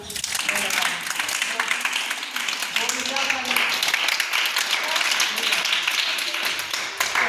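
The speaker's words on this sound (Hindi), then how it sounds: "अब अपने लिए ताली बजा सब लोग" A group of children and adults at a Tulsi Pujan Diwas gathering clap together, a dense continuous patter of handclaps running throughout with voices mixed in.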